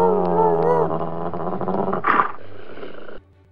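A dog growls and attacks in a video game, a close, loud snarling growl with rising whines, then a sharp burst of snapping before it cuts off abruptly.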